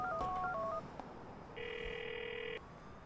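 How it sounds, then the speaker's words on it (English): A GTA 4 video game phone call to Roman: a quick run of electronic dialing beeps, then a single steady ringing tone held for about a second, close and clean without speech. "you can actually call Roman for a unique phone call"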